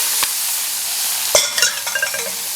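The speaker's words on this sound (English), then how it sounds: "we're just going to saute these for a couple minutes in some oil." Rabbit pieces and onions sautéing in oil in a soup pot for a German rabbit stew: a steady sizzle runs throughout, with a few sharp clinks and scrapes of stirring near the end.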